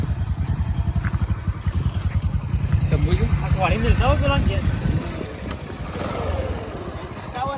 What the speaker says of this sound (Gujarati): ચલો આવજો બાઈક લાવી દીધો